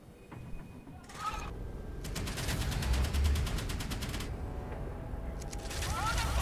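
Warship guns firing in the mobile naval game Modern Warships, a rapid rattling burst of cannon fire lasting a couple of seconds amid mechanical game sounds, moderately loud with brief chimes at the edges.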